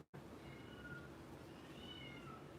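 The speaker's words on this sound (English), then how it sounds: "There's Marley, one of my cats in the background" A pet cat named Marley meows in the background, faint tonal cries drifting over a low room hum, with two or three drawn-out calls spread across a few seconds.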